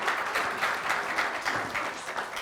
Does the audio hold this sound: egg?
no